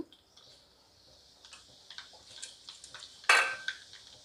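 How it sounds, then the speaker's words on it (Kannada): Mustard seeds spluttering in hot oil for a Mangalore vine spinach sambar: faint scattered pops and crackles build to a sharper, louder burst of spitting near the end, with no voices. "ಸಾಸಿವೆ ಚಟ್ಪಟ ಅಂತ ಸಿಡಿಯೋಕ್ಕೆ ಸ್ಟಾರ್ಟ್ ಆದಮೇಲೆ ಜೀರಿಗೆ ಹಾಕೋಣ"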